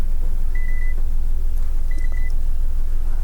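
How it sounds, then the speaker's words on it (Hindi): Renault Triber smart-key warning chime beeping when the key card is not detected, two short clear tone bursts about a second apart over a steady low background rumble. "यहाँ पे हमें इंफॉर्मेशन आ जाता है की कार्ड नॉट डिटेक्टेड और ये कंटिन्यूसली बीप करता रहता है।"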